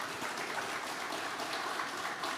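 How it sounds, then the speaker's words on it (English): Applause from a forum audience at an Indigenous cleaner energy event, a steady dense wash of clapping held at moderate, even loudness throughout with no voices standing out. "I'd like to give our panel a round of applause"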